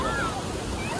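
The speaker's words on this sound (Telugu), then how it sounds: "ఇక అలలు అయితే ఎట్లా వచ్చేస్తున్నాయి మొత్తం" Ocean waves surge and crash on Vizag beach, a steady broadband roar with wind buffeting the microphone.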